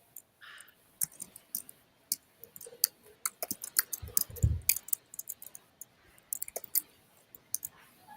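Rapid clicking of keys on a laptop keyboard, irregular close taps spread throughout, fairly quiet, with a brief low thump partway through and no clear talk.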